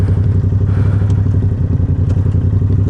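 A Yamaha R7 motorcycle being ridden under throttle, its engine a steady, loud, close low drone with a rough, throbbing texture and no voices over it.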